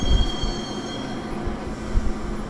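Subway train riding in the video game Max Payne, a steady low rumble of the carriage with rhythmic wheel thumps and faint squealing over a short stretch.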